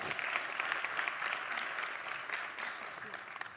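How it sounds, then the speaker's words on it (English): An audience applauds steadily for volunteers joining the presenter on stage at a business presentation networking session, the clapping dense and sustained throughout at moderate loudness. "Give them both a big round of applause."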